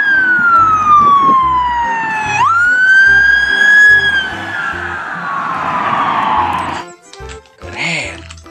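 A toy police car siren wails loudly and close, its pitch sweeping down and then jumping back up, before it cuts off and gives way to short clicks and handling sounds.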